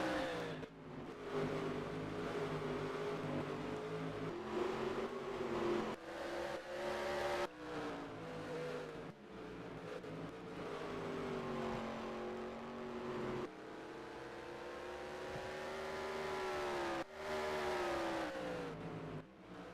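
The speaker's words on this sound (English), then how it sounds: "Some of the big dogs really letting the horsepower eat here in the closing laps, getting by some of the slower traffic." Race cars in a sim racing game at Evergreen Speedway in the closing laps, engines revving and accelerating continuously, loud and close, with pitch sweeps as cars push past slower traffic.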